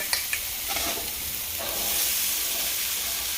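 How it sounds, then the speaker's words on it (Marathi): Crushed green chili thecha sizzles in hot oil with a loud, bright, hissing crackle, a couple of quick taps at the start, then a steady strong fry that swells slightly toward the end. "थोडंसं मिरचीचा ठेचा मी टाकलेला आहे आणि त्याला मध्ये परतून घेते"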